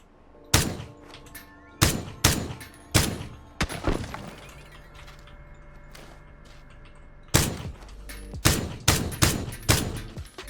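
SKS rifle shots in PUBG ring out as sharp, loud single reports in uneven clusters, each trailing a short echo, with a quieter stretch of game ambience in the middle before another quick volley.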